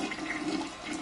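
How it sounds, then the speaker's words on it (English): Toilet flush in the video game Sleeping Dogs: a steady rushing swirl of water, moderately loud and continuous throughout, with no talking over it. "Oh, I just wanted to flush it."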